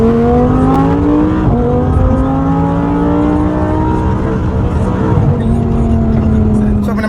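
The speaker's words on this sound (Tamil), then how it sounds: "நம்ம நிற்கும் போதே நியூட்ரலில் ஃபுல்லாக ரேவ் பண்ணலாம்" An Audi R8 V10 with a custom loud exhaust revs in neutral while standing still, a steady close engine drone with rising and falling pitch sweeps as the throttle is blipped, continuous and loud throughout.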